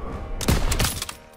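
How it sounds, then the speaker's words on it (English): A rapid burst of machine gun fire in the World War II shooter Call of Duty WWII, a dense cluster of sharp, loud shots rattling for about half a second amid battle noise. "Daniels, hit that MG"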